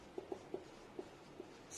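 Light, fast strokes of writing during a chemistry lesson, heard as about five soft scratchy taps spaced unevenly across a quiet room with no talking.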